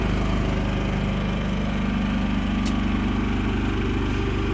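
A Champion 3100 dual fuel inverter generator runs in economy mode, a loud, steady engine hum with a low throbbing rumble that holds constant throughout, with no talk.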